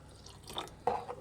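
A little water added to a radish sambar, brief soft splashing and dripping in a couple of short bursts, close and quiet with no voices.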